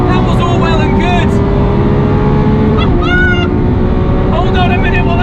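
A Lamborghini Aventador SVJ engine pulls hard down a straight, a loud continuous drone with a brief shift in pitch midway, heard from close inside with faint voice-like sounds over it.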